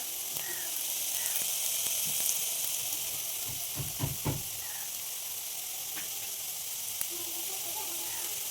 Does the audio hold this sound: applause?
no